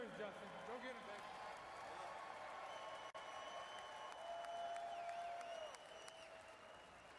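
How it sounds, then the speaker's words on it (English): A large crowd at the 2024 NFL Draft cheers and applauds in a continuous, roaring wash of clapping and shouts that holds steady from a distance, with a brief dip midway and a slight fade near the end. "I'd like all of you to join me in cheering on Justin as his wish comes true"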